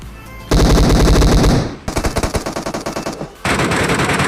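Rapid automatic gunfire rings out in a mobile battle royale shooter game, with loud sustained bursts broken by a stretch of distinct single shots, close and dominant with no talk over it.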